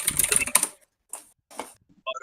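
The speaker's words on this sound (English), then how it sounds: "the clicking keyboard" Rapid clicking of computer keyboard typing, close and crisp, in a dense burst that stops abruptly, followed by a few isolated faint clicks and sounds.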